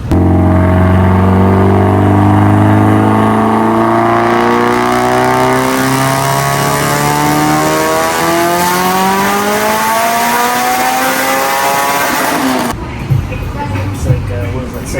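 A boosted Mitsubishi Evo engine screams up through the revs under load on a dyno in fourth gear, loud and close and rising continuously for about twelve seconds before cutting off sharply, followed by a few faint knocks and murmured talk.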